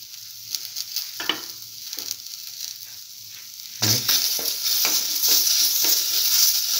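Scrambled egg and bread pieces stir-frying in a hot pan, with a steady sizzle and intermittent scraping stirs that swell into a louder, denser frying hiss partway through.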